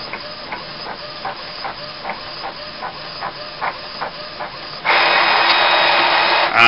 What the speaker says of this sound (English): I'll leave it printing for you so you can see something coming out here to prove it is printing.